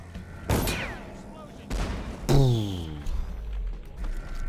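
Grenade explosions in Dishonored, three sharp booms spaced about a second apart with rumbling, ringing tails, loud and close, with game voices in the background.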